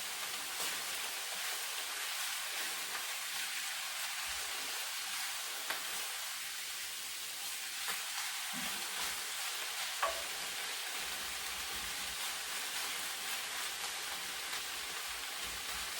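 Pork ribs and pickled cabbage frying in a pan, a dense continuous sizzle like steady rain, with faint low stirring thumps and occasional small clicks, close and even in level, no talk.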